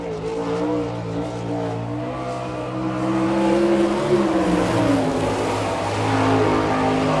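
Sprint car lapping KC Raceway dirt oval in an All Star Circuit of Champions race in Chillicothe, Ohio, a loud continuous high-revving engine drone that swells as the car comes nearer, no voices.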